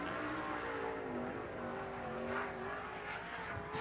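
A sprint race car pulls away onto the Lernerville Speedway track for a qualifying lap, its engine revving and climbing steadily in pitch, loud and continuous, with crowd and track noise behind it.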